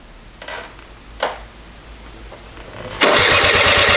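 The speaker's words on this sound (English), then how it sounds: "It kills all spark to the bike, but it still has power to your starter." A Honda Elite scooter that won't start, starter cranking with the kill switch off, brief clicks and short whirs before a sustained loud grinding crank near the mic.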